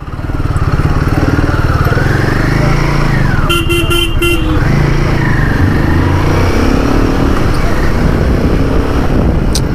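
A 2025 Royal Enfield Guerrilla 450 with a Himalayan-derived engine rides through dense city traffic, its loud, steady engine drone close by, with horns honking briefly in the middle and surrounding road noise throughout.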